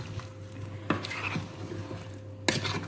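A spoon stirring Cameroonian plantain porridge in a pot, a few soft scrapes and knocks at irregular intervals over a faint steady hum.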